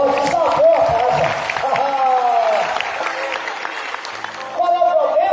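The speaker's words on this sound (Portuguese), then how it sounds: "Pode aplaudir mais forte, desabou a casa." Churchgoers at a Catholic gathering on holiness and conversion applaud under loud, raised voices, and the clapping makes a steady wash of noise behind the people speaking.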